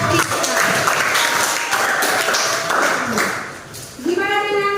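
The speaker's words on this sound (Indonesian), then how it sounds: "berikan tepuk tangan untuk Vika" Classmates give a student a short round of applause in a classroom, with dense clapping that fades out before a voice speaks at the end.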